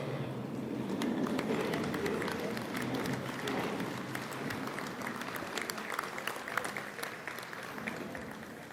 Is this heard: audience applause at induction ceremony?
yes